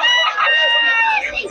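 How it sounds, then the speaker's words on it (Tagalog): A rooster crows loudly and close up at a live chicken market in Bocaue, with a long, strained call that holds steady for over a second and then trails off amid faint market background noise. "Malaking manok yan"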